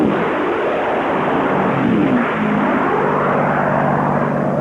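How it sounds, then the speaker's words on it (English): Racing propeller airplanes at the Reno air races, a loud, continuous engine roar with a pitch sweep as one plane passes close by, heard without talking. "Now Leroy Penhall, plane number 81, attempting to move up on Mike Loaning"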